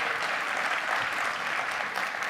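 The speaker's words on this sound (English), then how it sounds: "give him a big round of applause for Baruch" A live audience gives a steady, dense round of applause for a guest named Baruch, sustained and even across the whole stretch, with no voices standing out.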